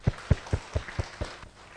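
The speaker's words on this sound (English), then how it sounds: "Please give applause to Mr." An audience claps for a speaker at a summer course session on coding theory and cryptography, with about six distinct, evenly spaced claps that die away quickly, close and moderately loud.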